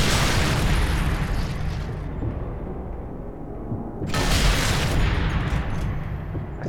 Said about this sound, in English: That's a Panzer Shrek.